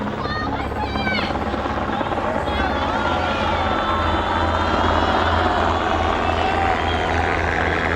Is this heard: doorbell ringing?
no